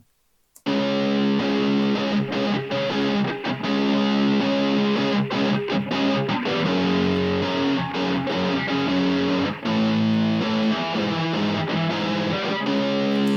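A dense, heavily distorted electronic beat plays continuously, gritty and saturated with buzzing overtones, loud and unbroken after a brief silent start.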